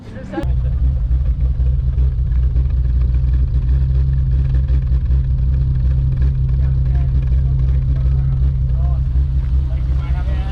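A BMW E30 engine revving with sharp throttle response, its exhaust carrying a bad gasket, a loud continuous low droning roar held steady at close range with people talking faintly over it.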